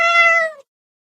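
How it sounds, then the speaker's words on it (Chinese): A kitten gives a single short, clear meow, close and fairly loud, lasting about half a second before falling silent. "怎么会有小猫？"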